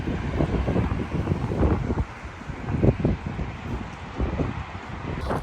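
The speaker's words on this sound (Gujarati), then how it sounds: "બહુ જ પવન આવે છે અને ઠંડી છે" Strong wind buffets the microphone in loud, uneven gusts with a steady rushing roar underneath.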